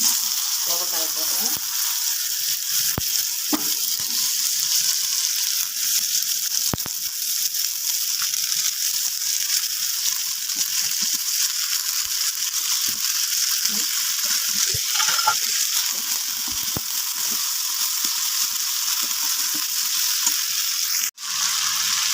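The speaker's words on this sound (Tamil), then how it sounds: "நல்லா இப்படி வணக்கி விட்டுக்கோங்க எண்ணெயில் நல்லா ஃப்ரையாக இப்படி வணக்கிட்டு" Ivy gourd stir-fry sizzles steadily in hot oil for the whole stretch, with occasional soft scrapes of stirring and no voices.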